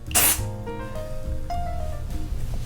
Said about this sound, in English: So you just shake it every time and just spray up.